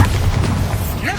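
A booming blast from the Bombarda explosion spell in Hogwarts Legacy, a loud, dense burst with a deep rumbling body that holds for just over a second.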